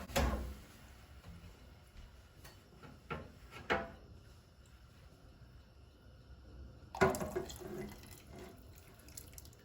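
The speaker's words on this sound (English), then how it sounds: "So now that that's all cleaned up, I'm going to pour this into my soup." Roasting pan drippings pour into a pot of beef vegetable soup in a home kitchen, a wet splashing stream in two bursts with a clatter between, close and moderately loud.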